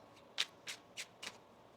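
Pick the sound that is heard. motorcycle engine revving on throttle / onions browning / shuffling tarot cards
shuffling tarot cards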